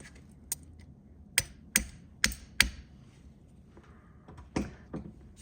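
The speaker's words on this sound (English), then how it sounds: "tap it with a hammer to drive the bottom bearing flush" Several sharp metallic hammer taps driving a bearing into a motor, a cluster of four evenly spaced strikes followed by a couple more, close up with faint background hum.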